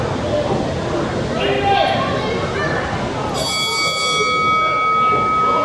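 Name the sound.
wrestling match ring bell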